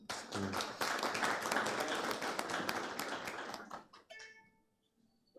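Audience applause at a Ramadan book club evening, a dense steady patter of many hands for about four seconds, then fading into a quieter tail with a brief tonal sound near the end.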